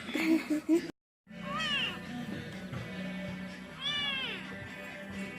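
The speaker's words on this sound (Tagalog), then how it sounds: "Gusto nyo ba yung itim na pusa?" A black kitten mews repeatedly in high, rising and falling cries, close by, over low background noise, with a person's voice heard at the start.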